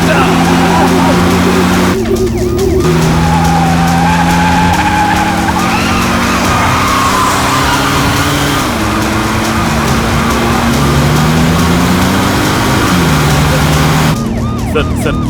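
A car speeds hard with loud, repeated tire skids and squeals, the engine roaring throughout, while voices talk over the chase.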